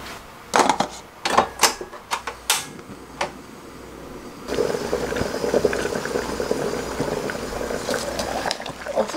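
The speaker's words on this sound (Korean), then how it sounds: "옥수수가 이렇게 끓고 있는데요" Corn on the cob in a pot of water: several sharp knocks and clatters, then a steady bubbling boil at moderate volume.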